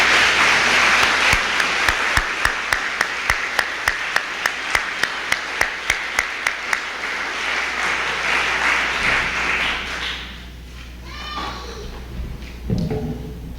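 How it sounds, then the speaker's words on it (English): A dense, loud wave of audience applause for a rescue squad at a Christmas supper, with a few sharp rhythmic claps standing out, then fading into murmuring and scattered voices near the end. "I'd like you to join me in giving them a round of applause for a job well done"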